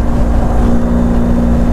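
An electric bike hums past with a steady, loud drone, its motor whine holding even and close throughout.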